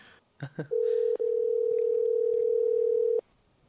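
A telephone line for a prank call gives two quick dialing beeps, then a single steady electronic tone that holds clearly for about two and a half seconds before cutting off.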